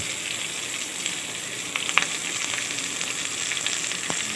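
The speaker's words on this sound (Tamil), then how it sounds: "வெங்காயம் நல்லா வதங்கிடுச்சு" Onions sauté in a pan for a Tamil elephant foot yam curry, giving a steady, even sizzle with faint scattered pops and no voices.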